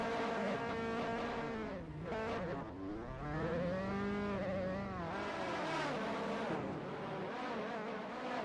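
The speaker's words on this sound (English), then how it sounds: "There goes the safety car, very safe." Race car engine in a racing video game at the Norisring, with the safety car driving past, its engine note rising and falling steadily and loudly throughout with shifting revs.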